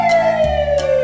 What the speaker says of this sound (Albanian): Polizia.